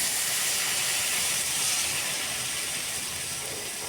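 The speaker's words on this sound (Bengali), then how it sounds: "জল দিয়ে এটাকে আরও কিছুক্ষণ আমি ফুটিয়ে নেব।" Jackfruit seeds cooked down with spices now boil in added water, giving a steady, bright steam-like hiss that holds evenly for several seconds with no talking.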